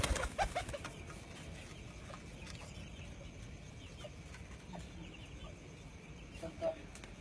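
Racing pigeons at a flying tournament coo and flutter faintly against a steady, noisy outdoor background, with a few brief louder calls.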